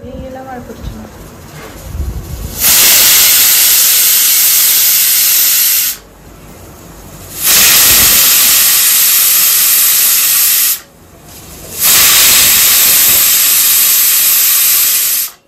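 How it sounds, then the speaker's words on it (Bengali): A pressure cooker holding chicken curry with potatoes and papaya lets out three loud, sustained blasts of hissing steam whistle, each lasting a few seconds with brief quieter gaps between them. "আমরা মাংসে 3টে মতো সিটি দিয়েছিলাম।"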